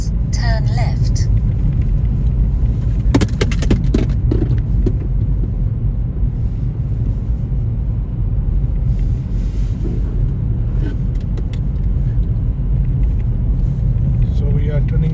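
A car on a Rochdale driving test route nears a roundabout, giving a steady, loud low road rumble with some wind noise throughout. A voice talks over it.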